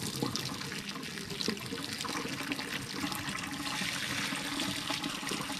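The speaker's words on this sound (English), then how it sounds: "You have to pour in batches. Usually the first part of it is just whey" Whey from ricotta making is poured out of a pot into a strainer, making a steady, close splashing and trickling of liquid that carries on without a break.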